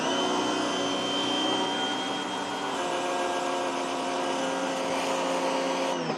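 A Greenworks battery-powered pressure washer sprays through a 15-degree fan nozzle, giving a loud, steady motor whine and hiss that holds level for about six seconds before cutting off.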